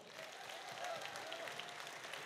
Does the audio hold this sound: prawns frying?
no